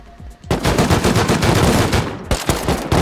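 An AK rifle fires in the survival game Rust: a sustained burst of rapid automatic shots, loud and close. It cuts off briefly near the end, then another shot follows.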